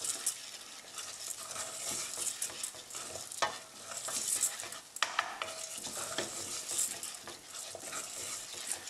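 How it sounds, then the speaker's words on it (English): Arborio rice for courgette risotto toasting in a pan, stirred continuously with a steady sizzle and the scrape and patter of a spoon against the pan bottom, close and alone without talk. "So we'll just continuously stir this now because it will stick to the bottom."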